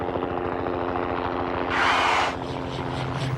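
Helicopter rotors spin in a steady, rapid chopping pulse that stays close and even throughout, and a brief burst of hissing noise rises over it midway.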